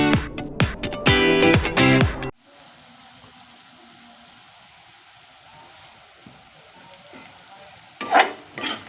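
Onions fry in a pan for a tomato egg curry, giving a low, steady sizzle after loud music cuts off, with a brief stirring clatter near the end.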